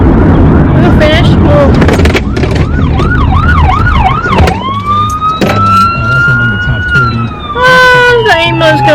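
Ambulance siren passing close outside, wailing yelp cycles giving way to a long steady tone and then rapid warbles, loud over street noise and traffic rumble.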